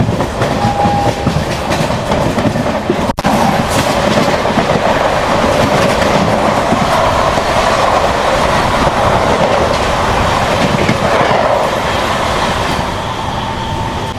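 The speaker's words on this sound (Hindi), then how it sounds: "अभी आपने जिस ट्रेन की क्रॉसिंग देखी ना, ये थी रानी कमलापति से अगरतला जाने वाली स्पेशल ट्रेन" Rani Kamlapati–Agartala special train passing on a crossing, heard from inside another moving train: a loud, continuous rumble with rhythmic clickety-clack of wheels and a faint squeal, sustained throughout.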